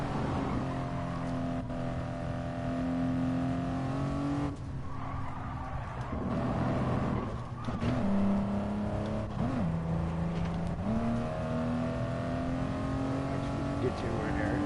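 Race car engine in a racing video game droning and shifting pitch as it cruises through gears at Big Willow, a steady mid-loud hum with brief dips between shifts, under occasional talk.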